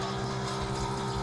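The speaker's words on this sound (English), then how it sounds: "It's one of those container pump stuff." Steady motor hum and liquid churn from a pump on a water container filling a bottle indoors, continuous and fairly close.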